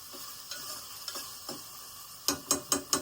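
Chicken for a Vizag-style fry sizzles softly in a pan while a spoon stirs it. Faint scrapes give way to four sharp, rhythmic strokes near the end.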